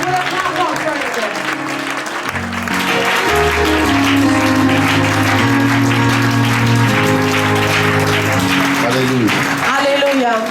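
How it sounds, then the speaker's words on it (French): Church congregation gives a clap offering during a worship service, loud clapping and cheering mixed with sustained music and singing throughout. "Glorify the Lord Jesus with a clap offering."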